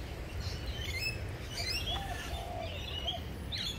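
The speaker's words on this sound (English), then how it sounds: "And here we have more lorikeets flying over my head. Just listen." Lorikeets call from a flowering tree in Australia, faint high chirps and short screeches scattered over a steady outdoor background hiss.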